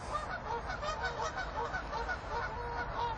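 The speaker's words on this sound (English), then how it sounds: "Got lots of ducks quacking away." Geese honk repeatedly with ducks among them on a common, a busy overlapping chorus of calls at a moderate distance, continuous and fairly loud with no talking.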